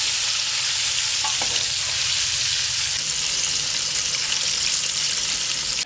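Chicken fillets deep frying in hot oil for a zinger burger give a steady, loud, dense sizzle with a bright hiss that holds unbroken throughout, with no voices.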